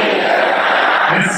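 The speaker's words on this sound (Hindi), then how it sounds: "हजारों की भीड़ डेथ टू अमेरिका और डेथ टू इजराइल के नारे लगाती" A crowd of thousands at a mourning rally in Iran chants slogans, heard as a brief, loud, dense roar of many voices.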